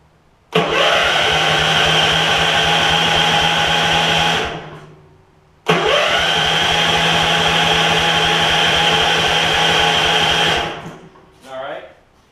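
Gravely 16 professional walk-behind mower engine started with choke on and throttle up, running loudly for about four seconds, dying out, then firing again and running before dying once more.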